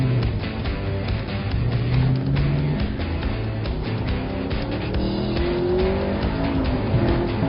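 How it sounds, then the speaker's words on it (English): A 2016 Camaro Z28 drives hard around the Belle Isle road course, its engine roaring and shifting pitch steadily up and down, with tire noise underneath and no talking. "We're going to take a ride in a brand new Z28 Camaro right here at the Belle Road Course"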